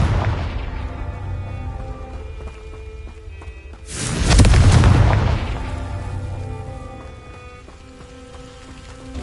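An explosion from the Confringo fire spell in the Hogwarts Legacy video game lands mid-clip as a loud booming blast, then fades out over a few seconds against a low rumbling game soundscape.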